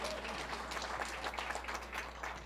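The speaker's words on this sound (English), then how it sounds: "You can clap for that." Applause from an event audience, a steady, moderately faint patter of many hands clapping throughout, with a constant low hum beneath.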